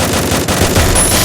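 Automatic gunfire in the battle-royale video game Free Fire roars as a loud, dense burst filling the short moment, with no speech over it.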